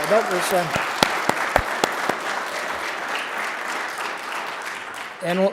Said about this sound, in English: So, round of applause for Steve.